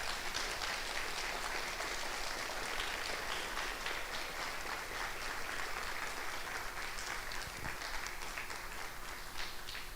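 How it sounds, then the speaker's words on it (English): Sustained audience applause for a symposium panel on anxiety and depression, a dense steady wash of clapping filling the whole stretch at an even level with no talk. "Why don't we give them a round of applause?"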